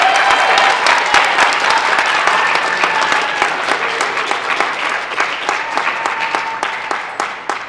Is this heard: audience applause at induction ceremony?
yes